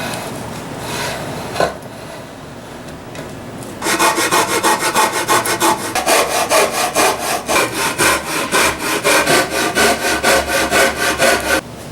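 Hand sawing through cedar boards to re-square them for a bench: a few scattered scrapes, then a long run of fast, even, loud back-and-forth rasping strokes up close.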